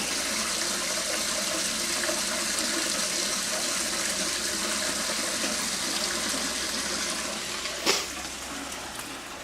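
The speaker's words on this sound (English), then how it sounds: "That water is bubbling up from that pipe there." Water bubbles up out of a pipe at an old abandoned lumber mill, a steady rushing, gurgling flow heard close and fairly loud, broken by one brief sharp knock near the end.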